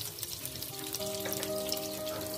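Chopped leek tipped into a hot pan for Cameroonian poulet DG sizzles steadily and close, a dense frying crackle that swells slightly as the leek hits the oil, with no talk over it.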